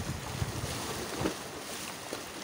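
Water sloshes and slaps against a boat hull amid steady wind and engine-like rumble, with a few soft splashes standing out.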